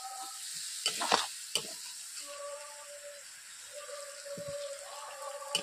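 Jackfruit curry simmering in a wok after a splash of water, with a steady sizzle and hiss, a few sharp spatula scrapes and stirring knocks early on, then quieter bubbling sizzle.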